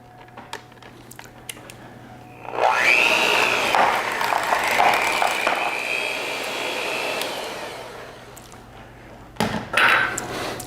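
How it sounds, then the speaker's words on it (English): An electric mixer whirs into cake batter for Blueberry Cream Cheese Crumb Bars, starting abruptly and running steadily for several seconds with a slight pitch wobble, then stopping, followed by a brief restart and clinks of utensils. "I have switched to my electric mixer, which will be much faster"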